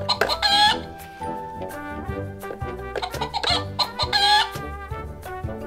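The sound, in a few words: hen clucking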